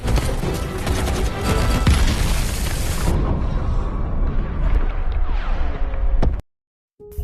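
Artillery fire in a war film: a dense, loud barrage of booming explosions and rumbling blasts rolls on continuously, thins after a few seconds, and then cuts to sudden silence near the end.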